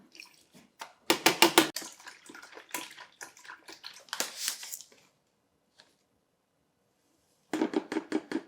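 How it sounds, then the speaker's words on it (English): Cold water runs into a tea pitcher of sugared tea in splashy, intermittent bursts, stopping briefly and then resuming close by, with no voices. "Once the sugar is dissolved, I just top off the pitcher with cold water and give it a good stir."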